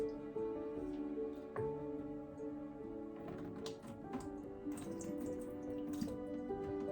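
Water running and dripping while equipment is rinsed to wash off potassium sorbate during mead making, a steady wet trickle with scattered drips and splashes close by.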